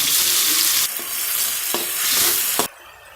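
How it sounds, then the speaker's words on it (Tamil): Onions and tomatoes fry in a pan for prawn kulambu: a loud, close, continuous hiss of sizzling oil broken by a few scraping stirs of the spoon, then the sizzle drops away abruptly near the end. "வெங்காயம் கொஞ்சம் வதங்கிடுச்சு. இப்போ தக்காளியை போடுவோம்."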